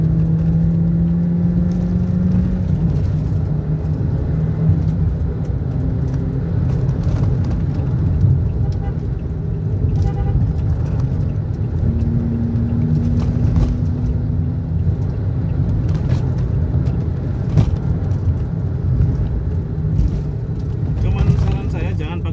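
Toyota Sienta with a CVT automatic accelerating on the throttle, a continuous low engine hum that rises and holds in smooth steps from inside the cabin, heard under someone speaking.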